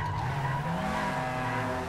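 A car in GTA 5 brakes hard, its tires skidding in a sustained, loud squeal over the engine noise, with no one talking.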